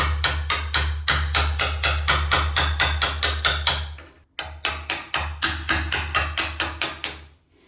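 A hammer strikes a chisel cutting into a wooden door to fit a lock, with rapid, evenly spaced sharp taps in two runs separated by a brief pause, close and loud.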